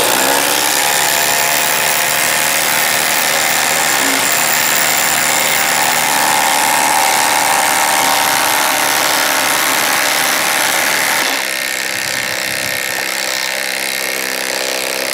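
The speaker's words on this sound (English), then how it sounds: "We'll be using brand new stainless steel half-inch lag screws, and we'll be using the new Flex and other impact sockets." Flex compact impact driver drives stainless steel half-inch lag screws: loud, continuous hammering rattle and whine held steady at close range, shifting in pitch near the end as the screw seats.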